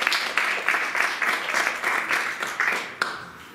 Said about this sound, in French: Elle applaudit bien fort.